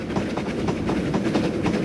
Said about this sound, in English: ooh, steamy train.